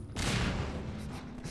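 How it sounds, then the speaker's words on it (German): A loud explosive blast bursts in during Half-Life 2, then a sustained rumbling roar of booms and crackling debris that carries on without a break. "Alles explodiert."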